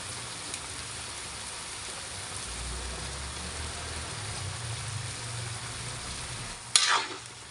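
Tuna head miso sinigang being stirred in a pot, a soft continuous bubbling, simmering wash with faint scraping, ending in a brief sharp clink near the close; no talking.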